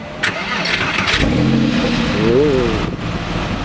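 A Porsche 997 flat-six turns over and catches, settling into a steady, close idle with a brief rise in revs, while a voice talks over it.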